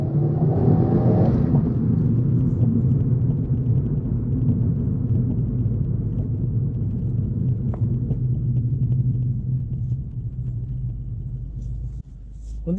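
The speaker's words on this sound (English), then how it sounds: "Really miss the sound of that turbo." A turbocharged 2020 Subaru WRX engine rumbles loud and close, surging under hard acceleration, with a deep steady drone that eases slightly toward the end.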